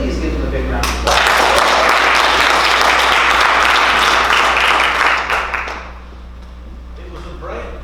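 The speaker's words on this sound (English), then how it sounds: "please give them a big round of applause" An audience at a spring class show gives a big round of applause, loud and dense clapping that swells quickly after a moment of room noise, holds steady, then tapers off into quieter background.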